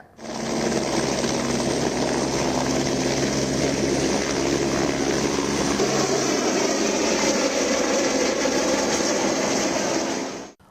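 Steady, loud rotor and engine drone of helicopters ferrying flood relief supplies, continuous and unbroken for about ten seconds with no talking.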